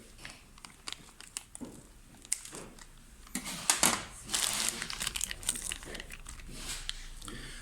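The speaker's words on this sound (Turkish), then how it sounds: "Cihazımızın Spirolog flow sensörü paketinde. Şimdi paketini açıyorum." A plastic package holding a Spirolog flow sensor for an Evita 2 Dura ventilator is opened close by, giving soft crinkling and scattered clicks and rustles that swell into a louder crackle midway, with no talk.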